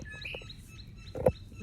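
A small bird gives a few faint, short chirps at a backyard bird-watching spot near a birdhouse and bird bath, with one slightly louder chirp near the end over quiet outdoor background.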